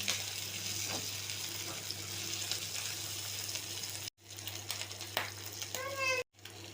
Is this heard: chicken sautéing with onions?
yes